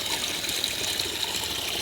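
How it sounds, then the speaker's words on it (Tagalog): High-pressure water gushes steadily from a pipe, a close, constant rushing hiss with no pauses. "ang lakas ng pressure ng tubig"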